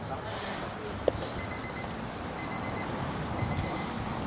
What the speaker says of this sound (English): And the timer goes off.